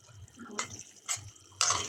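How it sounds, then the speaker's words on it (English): A little water splashes into tomato relish cooking on the stove, coming in a few short separate pours and drips with quiet gaps between them and a faint bubbling underneath. "you can add a little bit of water, and I mean a little"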